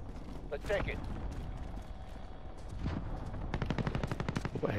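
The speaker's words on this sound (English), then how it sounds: "What, you're shooting? Sounds pretty close." Video game gunfire crackles in several bursts, including rapid automatic fire, sounding fairly close, while players talk over it.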